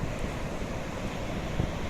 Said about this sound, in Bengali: মোহনায় সমুদ্রটা ভীষণ উত্তাল আর সুন্দর